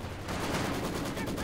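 Artillery barrage in Company of Heroes, a dense rumbling roll of overlapping distant explosions over a brief moment, steady and moderately loud.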